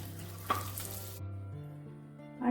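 Raisins roasting in ghee in a pan, a soft steady sizzle under a low continuous hum, with a light clink or stir near the start and another near the end.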